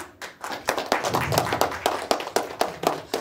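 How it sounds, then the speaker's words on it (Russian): Children in a lecture audience at the Small Academy of Sciences in Yakutsk clap to welcome a speaker before a talk on space technologies. The claps are fairly sparse and uneven, with a few sharp, distinct hand strikes standing out. "Аплодисменты, ребята."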